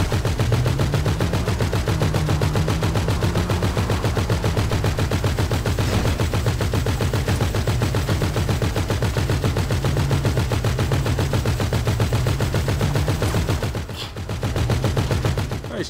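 Continuous loud automatic gunfire in a GTA 5 deathmatch, a dense unbroken rattle of rapid shots lasting throughout, briefly dipping near the end before resuming.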